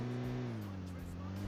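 A vehicle in the PUBG battle-royale game drives steadily, its engine giving a low, even droning hum that holds its pitch with only a slight dip partway through.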